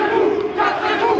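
A protesting crowd in France riots, with loud massed shouting and roaring voices surging in brief waves, close and continuous.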